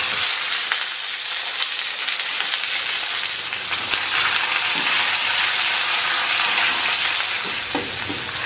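Onion fries in hot oil with browned chiles, a loud, even crackling sizzle heard close and continuous, with occasional faint stirring and no voices.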